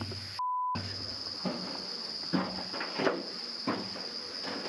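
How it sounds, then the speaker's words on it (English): Steady high-pitched cricket chirping fills an enclosed mine tunnel, with a short electronic beep near the start and a few faint knocks. "Yeah, apparently they're crickets."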